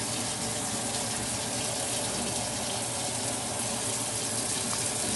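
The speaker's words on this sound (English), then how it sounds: "I'm pouring with the water because I did go a little heavy on the bouillon" Water pours steadily into a pot of beans cooked with bouillon, a continuous loud splashing gush that fills the whole stretch without pause.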